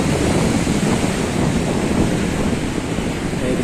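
Sea waves wash in at Alexandria near Qaitbay Citadel at sunset, a loud, continuous roar of surf mixed with heavy wind buffeting the microphone, with no voices heard.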